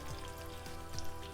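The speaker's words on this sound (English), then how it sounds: "We're just gonna sizzle these" Plant-based cutlets sizzle in hot oil in a pan, a steady crackling fry with fine popping, fairly close and continuous for a brief moment with no talking.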